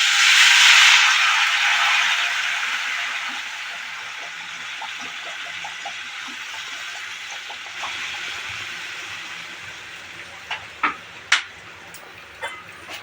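Water is poured into a cooked spice paste for a sour fish curry, starting with a loud, rushing sizzle that fades to a softer simmering hiss. A few clinks of a utensil follow near the end.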